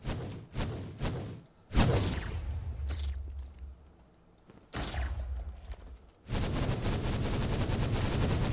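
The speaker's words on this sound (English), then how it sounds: "I'm getting some sort of lag or delay on firing with my laser gun" A modded laser gun firing in Minecraft's Enigmatica 2 Expert modpack during a Chaos Guardian fight, with uneven sharp bursts separated by quieter stretches, then a dense continuous barrage at moderate volume.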